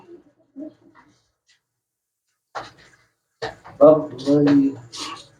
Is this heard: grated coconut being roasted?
no